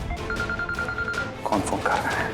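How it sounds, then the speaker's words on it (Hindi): A mobile phone rings indoors with a steady repeating electronic tone for more than a second. It then gives way to louder, brighter sounds while voices talk underneath. "कौन फोन कर रहा है?"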